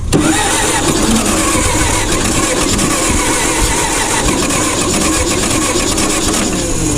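A vintage forklift left sitting for years turns over with a loud, dense mechanical churn that holds steady at close range throughout.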